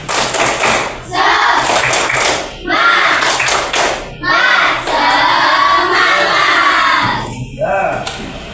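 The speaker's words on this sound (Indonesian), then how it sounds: "kita tepuk semangat" Indonesian classroom pupils doing a rhythmic spirit clap together, a loud crowd of hands beating out repeated patterned bursts with short pauses between phrases, children's voices mixed in.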